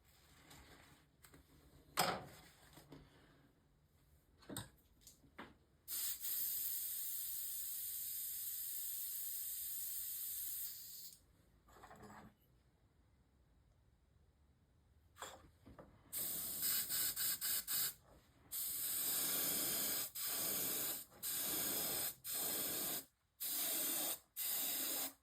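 Repeated bursts of spray paint hissing onto a fishing lure, some long sustained blasts and several short quick ones separated by quiet gaps, close and loud with no talking.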